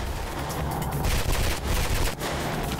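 An SMG fires in Mirror's Edge in sustained, dense automatic bursts. The crackle is loud and close, with two short gaps, and no one speaks.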